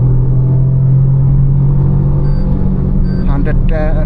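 Toyota Urban Cruiser Taisor 1.0L turbo engine pulling hard in third gear toward 6000 RPM, a loud steady droning hum inside the cabin with rising whine near the end and a voice talking over it.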